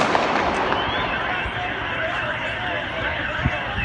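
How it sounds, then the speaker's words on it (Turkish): Gunfire crackles outdoors during a clash, rapid pops and bursts scattered over a constant noisy background, with agitated voices shouting throughout. "Kim o sıkan kim ya? Polis mi sıkıyor? Kim sıkıyor?"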